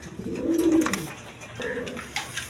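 Quality pigeons offered for sale coo up close in a couple of soft, throaty phrases, with faint background chatter and clatter.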